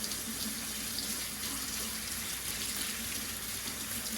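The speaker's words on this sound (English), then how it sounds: "give it a nice rinse" Jewelry being rinsed under a running faucet at a sink, with a steady, continuous splash of tap water that holds an even level throughout, close and moderately loud.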